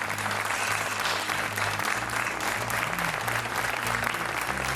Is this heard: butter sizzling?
no